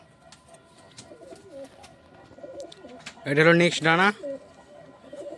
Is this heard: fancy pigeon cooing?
yes